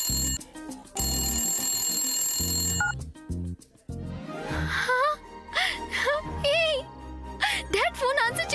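A telephone bell rings in two bursts of bright trilling, then gives way to excited speech from people in a household scene, including a voice and gasps.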